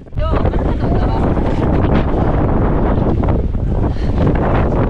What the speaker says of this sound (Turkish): bu kadar rüzgarda uçtuğumu, suratıma tokat gibi vurduğunu hiç hatırlamıyorum